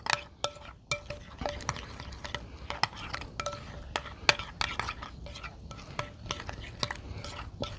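Mustard slather and rib seasoning being mixed in a bowl, a steady run of quick clinks and scrapes from a utensil against the dish, close and fairly crisp, with no voices.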